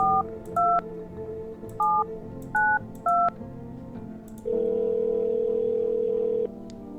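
A telephone is dialed in the No, I'm Not Human video game: a rhythmic series of short two-tone keypad beeps, then a long steady ringing tone, all clear and close.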